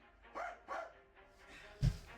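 A voice imitates a dog barking, giving a few short, rough woofs and finishing with one sharper, louder bark, close and otherwise alone.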